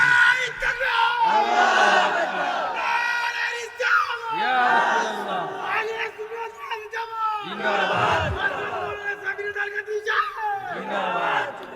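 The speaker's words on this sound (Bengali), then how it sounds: "দুই হাত তুলে আমার আল্লাহকে দেখায় আর জবানটা খুলে জোরে একটা তাকবীর" A crowd at an Islamic religious gathering in Madhabpur, Habiganj shouts takbir in loud, repeated unison bursts, several surging waves of massed voices that swell and fade across the stretch.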